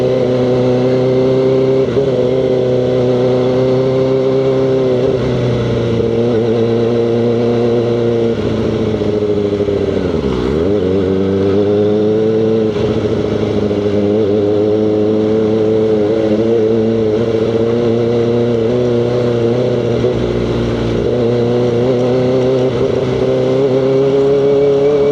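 A loud motorcycle engine runs steadily on a busy road, droning close up throughout with rising and falling revs and one sharp dip midway, no talk over it.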